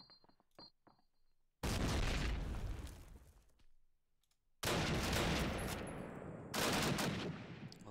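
Gunfire during a Call of Duty match, with loud sustained bursts of rapid automatic fire that start abruptly, pause, then resume. Fainter clicks and pops come before the first burst. No voices are heard.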